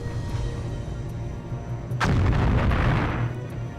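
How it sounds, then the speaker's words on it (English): Explosions in a 1998 PS1 video game: a low rumbling backdrop breaks into a sudden loud boom midway, followed by a crackling, rolling blast that sustains to the end. "Especially the explosions."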